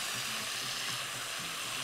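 Meat sizzles in a pot while it is sautéed with okra and coriander for a tamarind okra stew, a steady, close frying hiss that runs evenly throughout with no voices.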